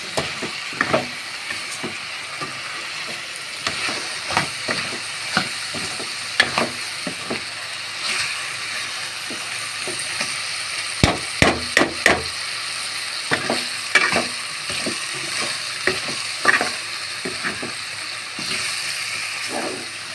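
Vegetables with salt sizzle steadily in a pan while being stir-fried, a constant frying hiss broken by frequent scraping and clattering strokes of a spatula against the metal.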